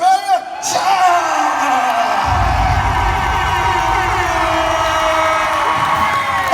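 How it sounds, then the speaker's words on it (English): Loud crowd cheering and whooping fills the space at an outdoor Rhythm Truck street show at Universal Studios Singapore, a steady roar of voices with shouts rising over it and no break. "All right, and how about a round of applause all the way from Australia?"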